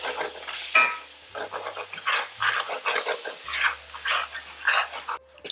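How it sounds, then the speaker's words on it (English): Flour is whisked into melted butter in a pan, making close, scraping stirs in irregular bursts over a faint low hum. "We're gonna take 1/3 cup of all-purpose flour and whisk it in."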